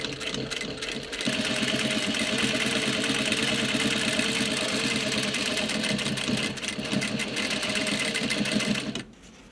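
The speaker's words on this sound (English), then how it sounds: "stitch and sort of close that hem of the top of the pocket right there, with one stitch at the top with a short seam allowance" A sewing machine stitches the hem along the top of a dungarees pocket, running as a loud, continuous, rapid mechanical whir for about eight seconds before stopping abruptly, with no talk over it.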